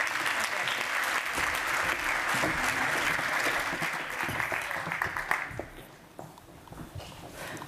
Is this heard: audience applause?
yes